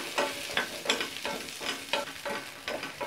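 Onion, garlic and ginger sautéing in a pan for a spicy country-chicken curry, with steady close sizzling broken by repeated scraping stirs at a regular rhythm, and no talking.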